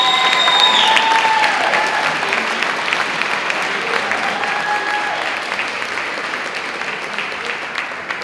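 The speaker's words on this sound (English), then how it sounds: "I'm going to grab one more round of applause for our public servants here." An audience at a Hispanic Heritage event applauds for city public servants, steady dense clapping from a crowd that slowly tapers off.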